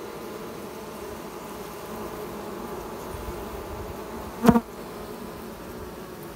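Honeybees buzz around an open hive during a brood inspection, a steady low hum throughout with one brief, louder buzz as a bee passes close.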